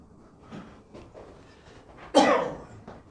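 A single sharp cough near the middle, preceded by faint background noises and brief soft sounds.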